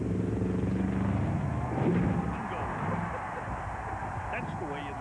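The engine of Mark Plasky's Ford monster truck roars and rumbles loudly at a monster truck show in Lima, Ohio, with a fluctuating growl and crowd noise, and an announcer is heard.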